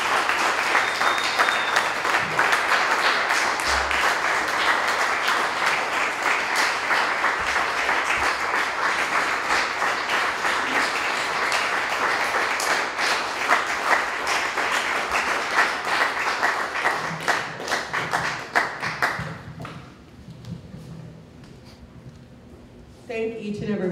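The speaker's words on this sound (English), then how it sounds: "Big round of applause, please." A rally crowd at a Texas Loves Ashli Babbitt event in Freeport, Texas breaks into dense, sustained clapping and cheering that carries on for nearly twenty seconds before tapering off.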